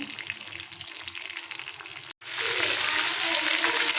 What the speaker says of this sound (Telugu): చేపలని డీప్ ఫ్రై చేసుకుంటాము